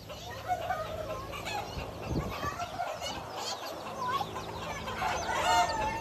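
Several chickens cluck and squawk at close range amid a bustling outdoor crowd murmur at a livestock market.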